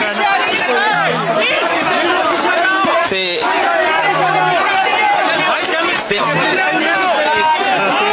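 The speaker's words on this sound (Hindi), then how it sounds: "आप भीड़ का हुजूम देख सकते हैं।" A large crowd of protesters gathered at Jantar Mantar in Delhi, a dense, continuous babble of many voices and shouts filling the whole stretch, loud and close with no pauses.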